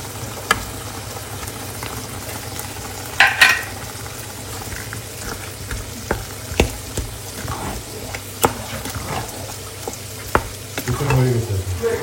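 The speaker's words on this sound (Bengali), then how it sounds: "আলু ভাজি, এখানে আলু ভাজি করতেছি" Potatoes frying in a pan for aloo bhaji, a steady close-up sizzle with scattered clinks and scrapes of stirring and a brief louder burst of spatter.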